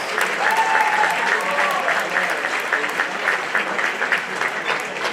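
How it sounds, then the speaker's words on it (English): An audience at a high school event applauds, dense sustained clapping from a large crowd with a few voices faintly mixed in, steady and loud throughout. "Big round of applause."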